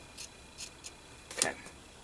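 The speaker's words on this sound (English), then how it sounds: "Using these scissors, they're a lot more sharper to cut." Sharp scissors cut paper for a junk journal cover in a series of crisp snips, several spaced single cuts then a closer, louder cluster, heard close up in a quiet room.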